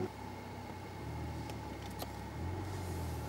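A 2011 Porsche 911 Carrera 4 GTS engine heard from inside the car, a low throaty hum that rises gently as the revs climb, fairly quiet.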